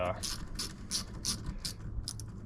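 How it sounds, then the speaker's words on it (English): Thumb wheel ratchet tightening plastic intake clamps on a 2022-2026 Honda Civic 2.0 during a PRL high volume intake install, giving a run of quick, evenly spaced bright clicks close up, about eight in a row. "And this is a thumb wheel ratchet."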